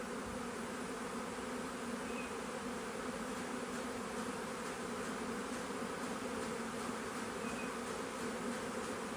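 A large honeybee swarm fills the air with a steady, dense buzzing as the bees pour into an empty bee box, a continuous close hum with no talking.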